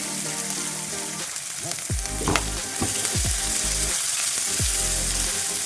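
Onion and green chillies fry in hot oil in a pan for a South Indian bitter gourd stir fry, a loud continuous sizzle close by, broken by several scraping stirs of a spoon.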